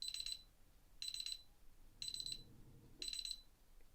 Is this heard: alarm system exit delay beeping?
yes